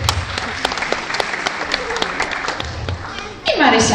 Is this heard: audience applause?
yes